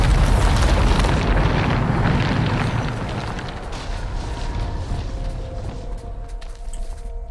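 A loud, close explosion from the Bombarda spell in the video game Hogwarts Legacy bursts out as a heavy, broad boom, then rumbles down over several seconds into a fading crackle.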